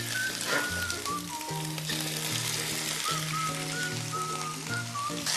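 Octopus frying hard in hot oil with garlic, chili and parsley stems, a loud, steady, close crackling sizzle that carries through without a break, while faint background music plays underneath and no one speaks.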